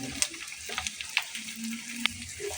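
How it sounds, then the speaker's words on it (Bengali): Capsicum and green chilies frying in a pan for pasta, a soft close sizzle with scattered crackles and small clinks as they are stirred, fairly quiet and without speech. "কিছুটা ভেজে নেব আমি"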